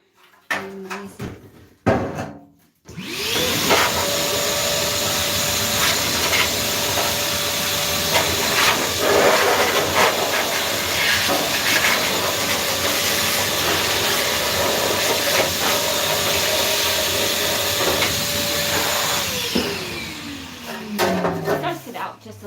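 A steady, loud rush of blown air clears dust from a clothes dryer part during reassembly, holding for about seventeen seconds with a motor whine that winds down at the end, bracketed by brief handling noises.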